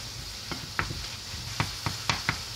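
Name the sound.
poke salad cooking down and being stirred in pan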